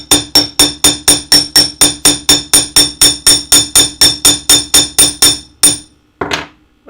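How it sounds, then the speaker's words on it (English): Bent metal is hammered flat on a hard surface with about twenty loud, evenly spaced metallic strikes in a steady rhythm, then a short pause and one or two final blows. "I just bent it out, and I'm going to hammer that flat again."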